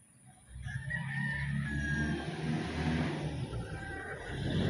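A rooster crows loudly nearby, with some clucking and a passing engine rumble in the background.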